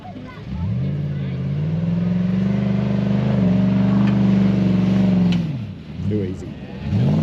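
Nissan Patrol Y62 engine revving hard as it climbs a steep hill in low-range third gear, a loud sustained drone that holds steady for several seconds before easing off, then picks up again near the end.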